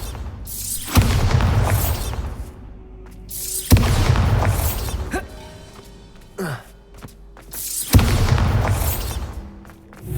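Bombarda spell blasts in the video game Hogwarts Legacy, three heavy booming explosions spaced a few seconds apart, each with a deep low rumble that trails off, separated by quieter clattering effects.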